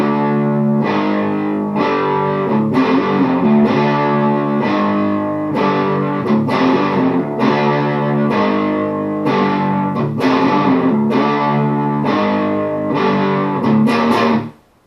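An electric guitar in drop D tuning plays the distorted intro riff of a song, a steady, loud, sustained riff with rhythmic chord hits running throughout before cutting off at the end.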